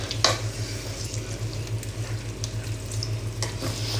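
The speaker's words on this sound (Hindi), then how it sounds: "अब इसको आपने अच्छी तरह से मसाले के अंदर मिक्स कर देना है" Desi chicken stirred and fried in masala for a karahi, a steady close sizzle with scraping stirs over a low hum, no talk.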